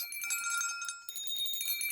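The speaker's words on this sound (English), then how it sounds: "soon it rang out loudly, and so did every bell in the house" Several bells ring out together inside a house, bright overlapping metallic chimes in quick succession that keep going without pause.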